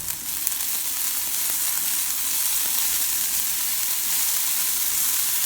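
Curry leaves fry in a pan with a steady, close, bright sizzle and crackle, hissing evenly throughout with faint clicks and no talking.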